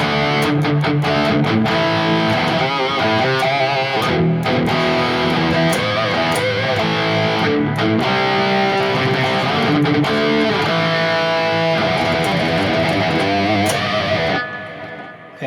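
A heavily distorted electric guitar through a Neural DSP Quad Cortex Gojira amp, cab and drive plugin plays loud, dense chugging riffs with sharp stops, continuous throughout before cutting off near the end.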